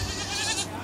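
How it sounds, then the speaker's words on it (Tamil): Several Sirohi black goats bleat together in a brief, busy chorus at a livestock gathering, with overlapping calls filling the whole moment at close range. "நல்லா நிறைய ஷெரோகி கருப்பு ஆடுங்க வந்திருக்கு."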